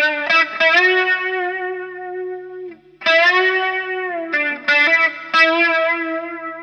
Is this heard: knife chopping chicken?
no